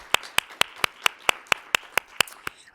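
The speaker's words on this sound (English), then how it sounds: "I just really want to give her and my MBA students a round of applause." Clapping for an event planner and MBA students at a business forum: about a dozen crisp, evenly spaced handclaps at a brisk, steady rhythm, close and clear, with nothing else heard.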